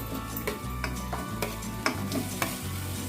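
Marinated bone-in chicken pieces going into hot masala in a pot, with close sizzling under a series of scraping, clattering knocks from pieces and utensils against the pot.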